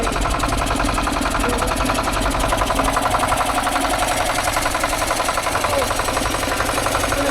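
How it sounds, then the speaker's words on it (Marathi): A vehicle engine runs with a steady, loud, rhythmic idle and faint knocking throughout, close by, with no speech. "और ये इंजन स्टार्ट हो रहा है."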